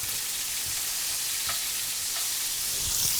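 Vegetables sautéing in a pan for a pot roast, a steady close sizzle and hiss throughout with a few soft stirring scrapes, no talking.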